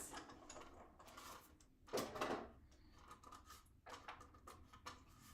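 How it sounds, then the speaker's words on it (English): Stampin' Up Cut and Emboss die cutting machine cranking paper through its rollers, a quiet run of mechanical clicks and ratcheting with a louder grinding burst midway, close by and with no talking. "I'm going to go off camera here to my die cutting machine, my Stampin' Cut and Emboss machine. And I'm going to cut several of these."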